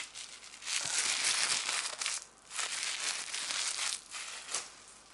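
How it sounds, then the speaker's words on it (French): A scrap of gift wrapping paper is crumpled close up in soft ASMR style, crackling and crinkling in continuous bursts with two short pauses, fairly quiet and with no talk. "le bout de papier."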